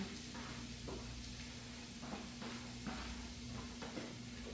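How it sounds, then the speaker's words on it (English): Turkey pepperoni, green pepper and onions sizzle softly in a pan, a faint steady frying hiss with occasional light stirring scrapes and clinks, no talk. "as you can hear, it's already sizzling"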